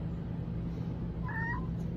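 A house cat meows once, a short two-note call rising out of steady outdoor background noise near a shed under construction.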